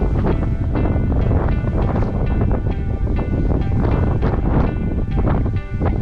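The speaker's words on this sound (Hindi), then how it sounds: "उधर हवा इतनी तेज़ आ रही थी" Strong, gusty wind on a mountain peak, roaring loudly and continuously with buffeting bursts against the microphone.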